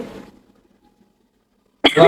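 A sharp burst of coughing near the end, set off by cooking in a kitchen, following a faint stretch of quiet after some short rough sounds at the start.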